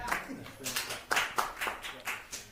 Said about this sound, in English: the only applauses sound like 3 people